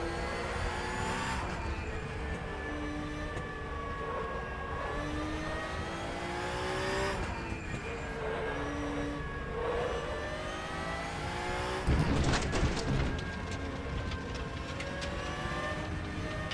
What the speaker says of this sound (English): Love the sound of those downshifts.